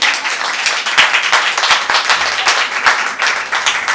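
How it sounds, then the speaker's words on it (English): An audience claps at a book launch for a young girl's first published book, a close, lively burst of applause with sharp individual claps throughout four seconds. "She deserves a huge round of applause for that."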